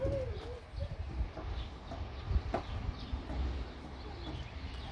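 Soft, low pigeon coos repeat outdoors in a park over a steady background hum, with a few faint chirps scattered through.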